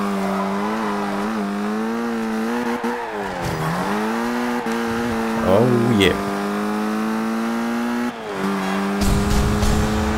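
An old car in the racing game Forza Horizon 2 drones with a steady engine note that dips and climbs as it shifts and accelerates, with tyre squeal at the corners. A player talks briefly over it.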